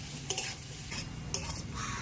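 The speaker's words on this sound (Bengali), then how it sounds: "এটা দিয়েও আরো 2 মিনিটের মতো পেঁয়াজ আলুর সঙ্গে ভেজে নিচ্ছি" Fish fat fries with onion and potato in a pan while a spatula scrapes through it in a few quick strokes over a low sizzle, faint and close, with nobody talking.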